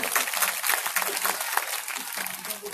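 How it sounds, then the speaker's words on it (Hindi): Audience applause at an evening kirtan gathering in Noida, honoring a harmonium player; steady broadband clapping from many hands fills the moment, with faint voices mixed underneath. "आप लोग ताली बजाइए।"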